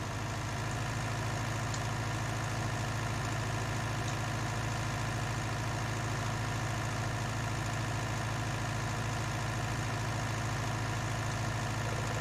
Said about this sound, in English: Tractor ploughing the land nicely with the David Brown plough